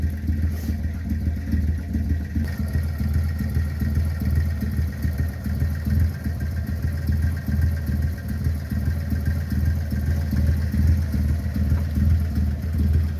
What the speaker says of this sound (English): It sounds like it's got a racing cam in it or something.